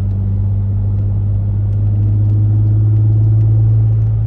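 A Ford Mondeo ST220 engine rumbles close by on the streets of Sofia, a loud, steady low drone that climbs slightly in pitch partway through as it pulls, with no talking.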